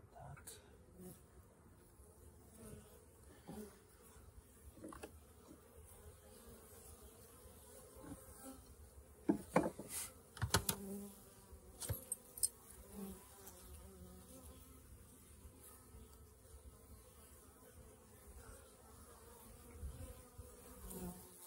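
Honey bees buzzing around an opened hive during a December colony check, a close, continuous drone with individual bees flitting loudly past now and then.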